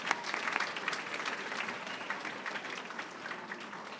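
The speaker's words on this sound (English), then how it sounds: "How about a nice round of applause for these folks?" Audience at a university career fair and style show breaks into sustained applause, an even, moderately distant wash of many hands clapping that carries steadily from start to finish.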